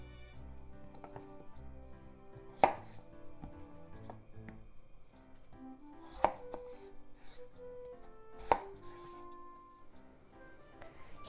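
A knife chops pork and potato pieces on a board, three sharp, widely spaced cuts heard over quiet background music.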